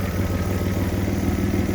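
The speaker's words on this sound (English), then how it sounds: "As I said, ticking goes away. Engine's absolutely solid." An Opel Calibra engine runs steadily after repair, a smooth, continuous idle with a low, even hum and no ticking, close and alone.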